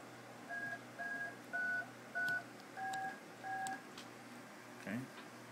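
A radio mic keyed on a Raspberry Pi PiRLP node sends a short string of faint paired beep tones, each about half a second, in a steady sequence over low hiss and hum, ending with a brief chirp.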